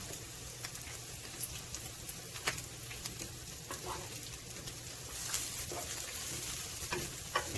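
A bagel toasts in a little oil in a pan, giving a soft, continuous sizzle with scattered faint pops and crackles and no voices.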